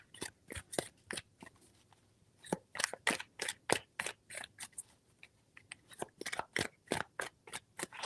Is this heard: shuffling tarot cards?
yes